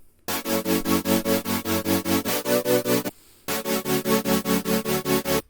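A dense future bass synth tone throbs in a steady, rapid wobbling pulse from a sine wave LFO, cutting out briefly before resuming with a shifted chord.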